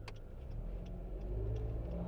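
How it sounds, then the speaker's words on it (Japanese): Car interior driving noise, a steady low engine and road rumble heard from inside the cabin, quiet and continuous with faint ticking sounds. "ちょっとね、運転しながら撮ってるんで音入ってたらすいません。"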